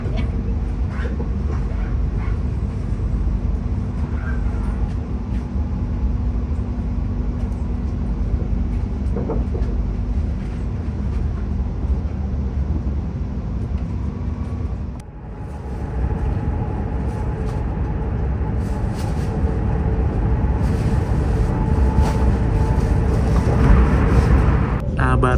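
A train rumbles steadily past on the adjacent track, seen from inside a long-distance train in China, a loud continuous roar that keeps up for the whole stretch with brief shifts in tone and a voice talking over it.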